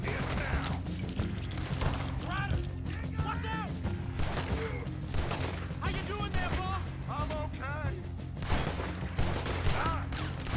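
Continuous volleys of gunshots crack through a firefight in Red Dead Redemption, with overlapping reports filling the whole stretch while someone speaks and other voices call out over the shooting.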